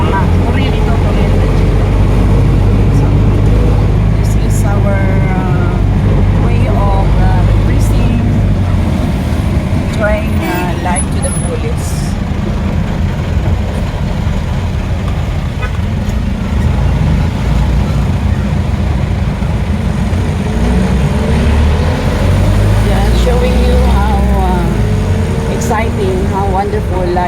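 A jeepney rides through Davao City traffic, its engine rumbling low and steady for the whole stretch, with traffic noise around and voices talking over it.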